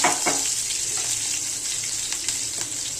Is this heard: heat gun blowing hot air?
no